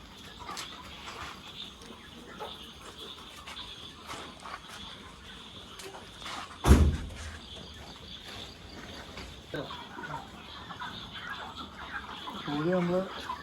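Chickens clucking inside a poultry farm shed, a low continuous murmur of many birds with scattered calls, a sharp knock midway and a brief voice near the end.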